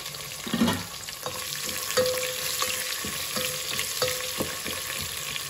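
Onions frying in a pan, a continuous close sizzle broken by regular scraping and clacking stirring strokes roughly every half second to second, no talking.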